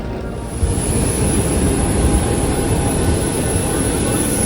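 Airplane jet engines roar as a steady, loud, broadband rumble filling the whole clip, rising in at the start.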